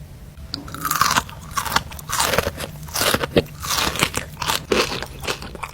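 Crunchy Dubai-style chocolate filled with pistachio and Turkish kataifi pastry is bitten and chewed up close, a series of loud crisp crunches and crackles repeating irregularly, with no talking.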